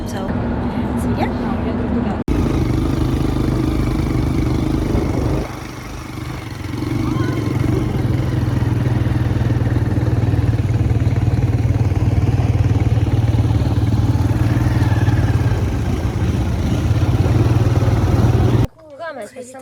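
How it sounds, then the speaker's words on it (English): A quad bike engine runs steadily through most of the stretch while riding in the desert at Sharm El Sheikh, a loud continuous mid-pitched drone that dips briefly near the start and cuts out at the end, with voices heard over it. "We're gonna go quad biking, bike quadding, I don't know. We're gonna ride a quad."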